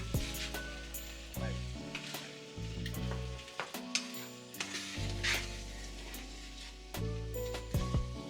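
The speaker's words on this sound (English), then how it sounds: "I stir it all around and get it all mixed up" Curried chickpeas sizzle and fry steadily in a pan as they are stirred, with scraping movements and a few clinks of the utensil against the pan, over music playing throughout.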